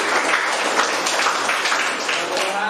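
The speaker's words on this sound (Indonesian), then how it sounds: "Tepuk tangan kelompok 2." A classroom group of students applauds a team during a technical drawing lesson, a dense, steady wash of clapping that stays fairly loud throughout with no voices rising above it.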